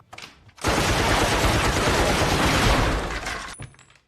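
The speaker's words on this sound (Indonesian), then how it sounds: "memakai senjata modern yaitu pistol rolet, yang bisa mengeluarkan banyak peluru dalam satu kali tembakan" Rapid burst of revolver gunfire in an anime fight scene, a dense, loud volley lasting about two and a half seconds, with a quieter tail and a faint ringing tone at the end.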